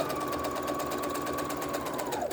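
A sewing machine runs a steady straight stitch along the seam of a fabric face mask that has paracord sewn in, a continuous close mechanical whir holding even throughout with no talking.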